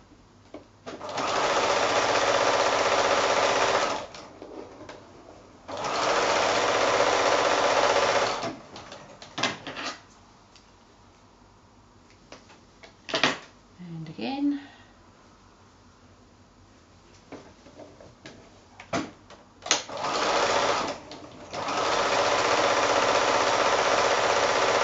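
A sewing machine stitches quilting fabric in loud, steady runs of fast mechanical whirring, three long bursts separated by pauses filled with quiet handling clicks and brief short stitching spurts.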